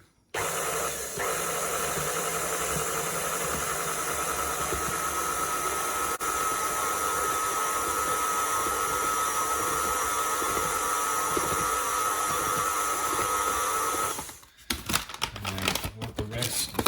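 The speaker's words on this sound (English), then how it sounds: "we want to knead this in this machine for about 10 minutes" A dough kneading machine working Neapolitan pizza dough of flour and water gives a steady, loud whirring drone for about fourteen seconds, then cuts out, followed by brief irregular clattering and handling noise.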